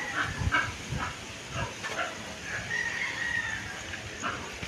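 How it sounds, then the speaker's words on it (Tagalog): Chickens and a rooster outdoors in a windy rural setting, with faint distant crowing and clucks breaking through steady wind noise and soft hiss. "Naririnig ang mga manok."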